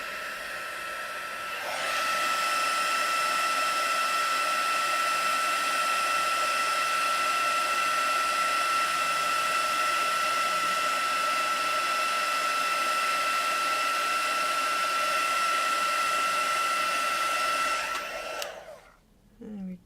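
A heat tool blows steadily over a pop-up card, a loud, continuous whirring hum with a high motor whine that holds for about sixteen seconds before it switches off and winds down.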